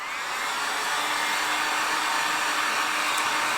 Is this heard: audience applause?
no